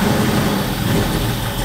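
A Shelby GT500 Super Snake, built from an original car, starting up and running: a loud, close, steady engine rumble with heavy low-end drone and no pauses.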